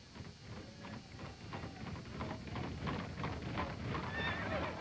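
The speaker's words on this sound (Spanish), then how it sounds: "Wenceslao entró a Praga, los caballos se detuvieron súbitamente enfrente de la prisión principal" Horses pulling a funeral carriage neigh and whinny while their hooves clip-clop in an irregular rhythm, faint and somewhat distant.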